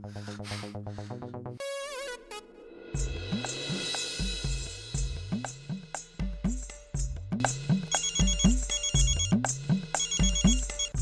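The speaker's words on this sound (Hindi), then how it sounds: "जेठालाल मेरा फोन क्यों काट रहा है?" A phone ringtone plays loudly and steadily, a repeating electronic melody with rhythmic pulsing tones, no voices present.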